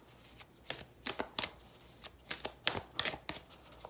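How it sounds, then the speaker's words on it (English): Tarot cards being shuffled by hand, a run of crisp riffling bursts in an uneven rhythm, close and clear with no talking over them. "then I keep shuffling and the same cards come out again"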